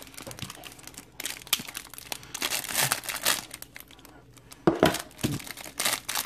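Plastic wrappers on MLB baseball card packs from 2018 to 2022 crinkle and tear as they are cut open, close-up bursts of sharp crackling with brief pauses between.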